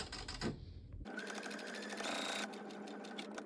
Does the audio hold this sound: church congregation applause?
no